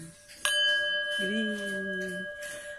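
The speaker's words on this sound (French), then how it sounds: "c'est les cloches de l'église" A single church bell strike rings out and sustains with a clear ringing tone, joined by a brief low hum, moderately loud with light background noise, in the early morning.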